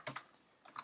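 A few quick keystrokes on a computer keyboard, sparse clicks close up and fairly quiet, with no talking.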